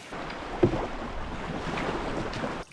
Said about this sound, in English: we're going to paddle round